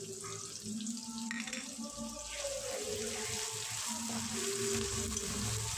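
A ginger, garlic and green chilli paste fries in a pan while it is stirred, making a constant soft hiss with brief scraping under occasional faint voice tones.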